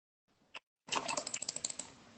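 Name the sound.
typing on a computer keyboard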